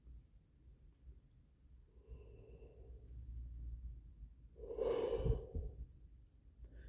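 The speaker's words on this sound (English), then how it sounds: "giving you a nice, deep, full breath" A single deep, full inhalation, soft at first and swelling into a louder rushing breath near the end, close and alone in a quiet room.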